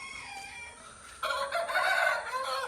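A chicken crows at a poultry farm with a two-storey imported-breed setup, starting quietly and then sounding a loud, drawn-out crow near the mic, with fowl clucking around it.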